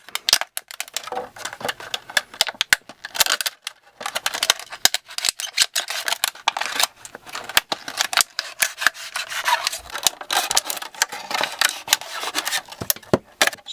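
Plastic bottle being cut around its top to take the top off, a steady run of close, dry snipping and scraping crunches with no talking.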